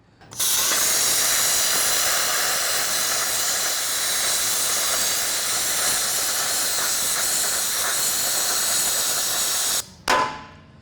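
Grounded cutter slicing through metal on a Ford F150 truck frame during a lift kit install: a loud, continuous high-pitched hissing grind that runs steadily for about ten seconds, then cuts off abruptly and briefly restarts.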